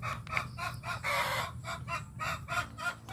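Chickens cluck and a rooster crows on an egg-laying hen farm, with repeated bursts of calls close by over a steady low hum, with no talking.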